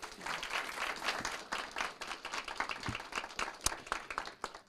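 Applause at a city council meeting for a volunteer service award recipient: a few seconds of scattered, fairly quiet hand clapping from a small audience, uneven and without any talking.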